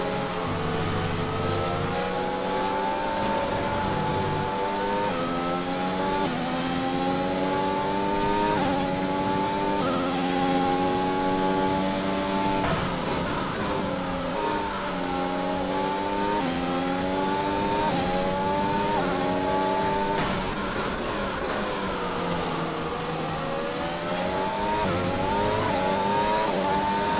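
Several race cars accelerate and rev continuously in an F1 racing video game at Barcelona, engine tones rising and falling through gear changes, loud and sustained with no talking.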